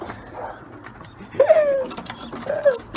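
Domestic pigeons in a loft give two soft cooing calls, one in the middle and another near the end, over a quiet background with faint room noise.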